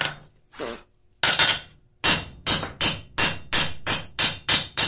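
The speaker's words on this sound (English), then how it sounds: "So, use my other hammer here." A heavy hammer strikes metal in a steady run of loud, ringing blows, roughly two per second, after a few scattered hits, while a blacksmith forges a gauge and knocks scale loose from the workpiece.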